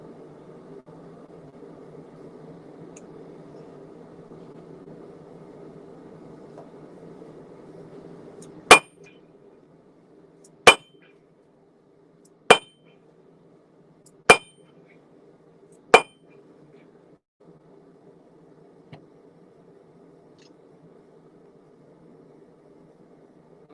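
Five sharp, evenly spaced metal strikes ring out as a punch is hammered through a forged hammerhead on an anvil outdoors, each clang loud and isolated over a faint background hum.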